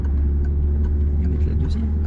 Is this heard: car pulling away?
yes